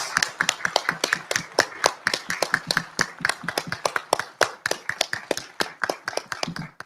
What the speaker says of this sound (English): Let's give them a big grand final round of applause to all the presenters.